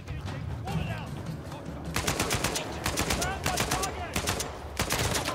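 Rapid bursts of automatic gunfire in the video game Uncharted 4, loud and close, with sharp repeated shots clustering into dense volleys over a player's voice.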